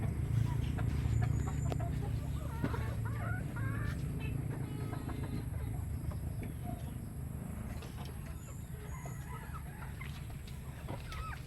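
Many farm chickens, including roosters and hens, cluck and call in a steady, busy chorus on a rural lot in Lopez, Quezon, with faint scattered voices and background farm noise throughout.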